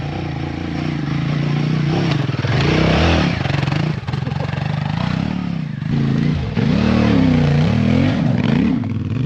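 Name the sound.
Royal Enfield Himalayan 450 and CFMOTO 450 MT motorcycles accelerating hard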